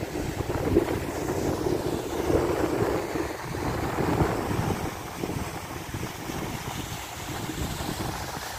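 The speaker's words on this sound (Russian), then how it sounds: "Ой, даже на меня вода тут брызжет." Water splashing near a boat on a river, a rushing wash of spray and waves mixed with heavy wind noise on the microphone, steady throughout with no talk.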